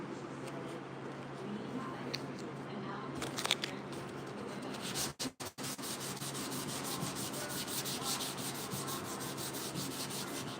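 Dry hand-sanding of a 1968 Chevrolet C10 front grille with 400-grit paper, a steady close scratchy rubbing that runs continuously with a brief pause midway.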